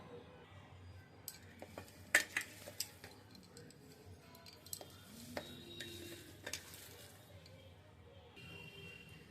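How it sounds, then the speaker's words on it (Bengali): Chhana cottage cheese is mashed by hand in a bowl, giving soft squishing and pressing sounds with a few sharp taps and clicks of the bowl, close and intermittent, over a quiet background. "ছানাটা ম্যাশ করে নিব আমার হাতের এ জায়গাটা দিয়ে, একবার ভালোভাবে ম্যাশ করে নেব।"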